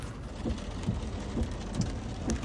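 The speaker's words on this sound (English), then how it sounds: "So the storms are coming in from this way." Steady rain from an approaching thunderstorm hisses continuously across the clip, dense and even, with soft low rumbling underneath and no voices.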